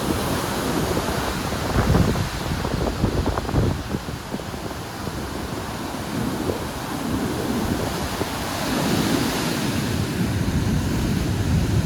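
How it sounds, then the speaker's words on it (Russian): Storm waves crash against a wall beside a beach, a continuous heavy roar of surf with wind buffeting the microphone, surging louder in bursts near the start and again toward the end. "Аж об стенку бьются волны, видите?"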